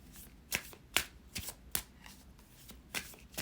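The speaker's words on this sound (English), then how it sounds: "Now you'll see that I shuffle the original traditional way." Tarot cards are shuffled close up in crisp, papery bursts at an uneven rhythm, with no voices.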